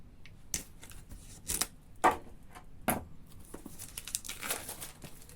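Scissors work open a stubborn package, with close crinkling and rustling of plastic wrapping broken by a few sharp snips and crackles, no voice over it.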